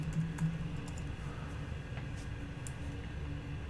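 Keys tapped on a computer keyboard to enter a search word, a soft steady run of light clicks close by over low room hum, with no voices.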